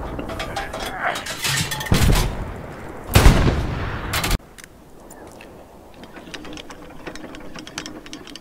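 Artillery in Hell Let Loose at El-Alamein fires several heavy rounds in quick succession, loud close booms with rolling decay, then distant quieter thuds and a faint voice afterward.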